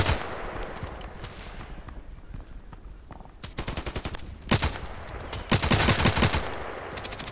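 Gunfire in the Contract Wars shooter game: scattered single shots early, then loud bursts of rapid automatic fire in the second half over a low background rumble, with no talking.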